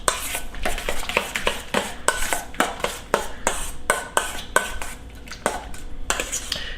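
A utensil whisking a lemon juice dressing in a bowl, with quick, rhythmic clinks and scrapes against the bowl repeating steadily at close range, and no one talking.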